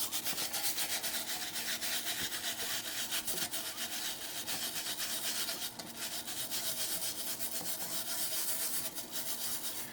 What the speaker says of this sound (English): While I'm here scrubbing the rhinestones that I applied with Krystal Glaze